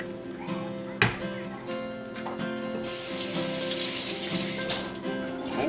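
Chicken broth pours into a skillet as a steady, close splashing stream that builds in brightness partway through, with a few clinks and thumps at the start.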